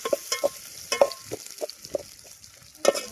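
Onions and green chillies stirred in a pan for fish biryani, a soft fry under a series of distinct scraping, stirring knocks spaced through the moment, with a louder stroke at the end.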